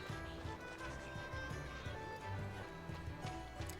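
Clip-clop hoofbeats of a horse in a video game, steady and rhythmic under layered game music and ambience, moderately quiet.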